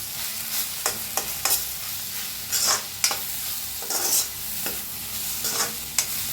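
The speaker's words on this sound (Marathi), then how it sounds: "आणि एकदा फिरवूया, म्हणजे कोथिंबीर टाकले आपण." Mutter and chana chutney with fresh coriander stirred in a hot pan: a steady sizzle under repeated scraping strokes of a spoon, close and moderately loud, with no talking.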